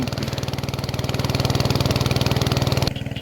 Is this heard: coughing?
no